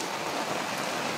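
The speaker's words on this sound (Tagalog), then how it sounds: "Naabot kami ng malakas na ulan." Heavy rain pours steadily outdoors, a dense, continuous hiss with no voices, sustained and close at a constant loudness throughout.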